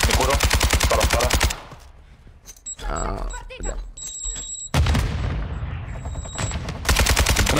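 Bursts of automatic gunfire and heavy shots in a multiplayer shooter video game, loud and rapid at the start and end, with quieter scattered shots, booms and beeping interface tones in between while players talk.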